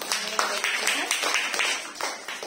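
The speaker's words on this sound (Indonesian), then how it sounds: "Mari berikan tepuk tangan." Faint, sparse applause from a church congregation, with separate claps in an uneven rhythm over a couple of seconds and a soft voice underneath.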